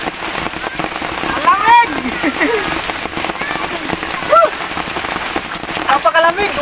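Loud, steady rain pours down on a hard surface, dense and continuous, with a voice briefly speaking over it.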